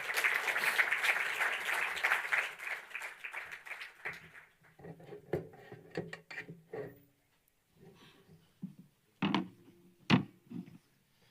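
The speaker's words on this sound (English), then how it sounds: "If you agree, you can clap. If you don't agree, you can also clap." Audience applause in an auditorium at a Python programming conference talk, a dense burst of clapping for about four seconds that thins out into scattered claps and quiet room noise.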